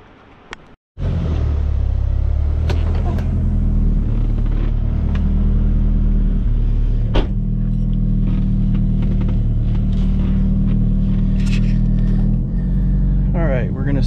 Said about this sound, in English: We're gonna go drive the car and do the brake bedding procedure.